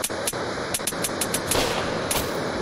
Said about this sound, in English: Oh, I shot him twice.